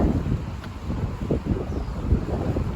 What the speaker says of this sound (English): Sorry if there's like wind sound in the background.